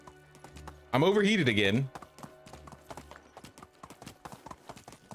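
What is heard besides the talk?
horse hooves galloping in video game Medieval Dynasty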